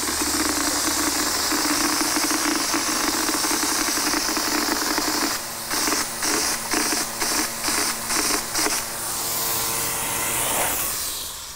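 A hopper gun sprays water during concrete resurfacing, a loud steady compressed-air hiss and spray running nearly throughout, briefly pulsing on and off partway through before easing off at the end.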